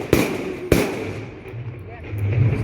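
Two sharp Diwali firecracker bangs go off about half a second apart in Gujarat, followed by a quieter outdoor hum with faint background voices.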